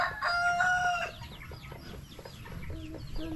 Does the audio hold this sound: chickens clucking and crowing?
yes